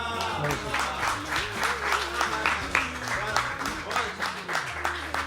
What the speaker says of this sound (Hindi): जोरदार तालियां आमिर भाई के लिए